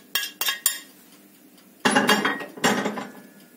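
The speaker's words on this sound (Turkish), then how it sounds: "Bu arada ben de hemen kıymamı şöyle bir geniş kabın içerisine boşaltıyorum." Minced chicken for köfte is emptied into a wide bowl: three quick metallic clinks of a utensil against the dish, a pause, then two longer bursts of scraping and clattering, close and clear with no talk.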